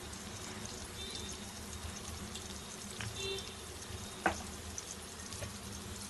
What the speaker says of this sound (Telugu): ఉల్లిగడ్డలు ఇలా మగ్గుతున్నాయి కదా